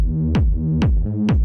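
Techno kick drum and bass line under gentle bus compression, three deep kicks landing about half a second apart with pitch-dropping tails over a sustained low bass tone, steady and loud with no voices.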